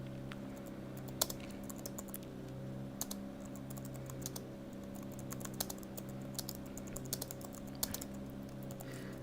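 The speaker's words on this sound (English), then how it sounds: "let me just type in chat" Fingers typing on a computer keyboard, quick irregular clicks in short bursts, faint and close over a steady low engine hum from a racing game with an Alfa Romeo 33 Stradale, no speech.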